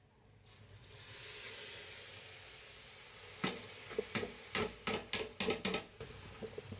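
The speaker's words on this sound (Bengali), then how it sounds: "আমি চালটা ভাজা ভাজা করে" Rice with chili powder, turmeric and salt is fried in a pan, starting with a steady sizzling hiss that swells, then joined by sharp repeated scraping stir strokes in an irregular rhythm.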